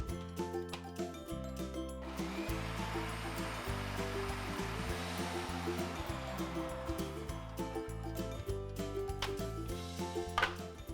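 A food processor whirs steadily as it finely chops basil for pesto, a continuous loud blending roar with short pulsing changes near the end and no voices.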